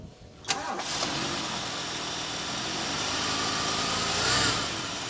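A 1971 Lincoln Mark III's engine cranks briefly and catches after a carburetor overhaul, then settles into a steady, fairly loud idle with a slight swell in revs near the end.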